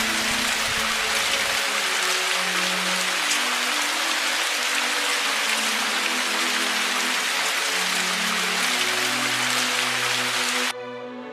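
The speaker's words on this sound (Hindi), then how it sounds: "बारिश शुरू हो जाती है।" Cartoon-story rain effect as a downpour begins, dense steady patter of raindrops on surfaces with soft tonal music underneath, running continuously before cutting off abruptly near the end.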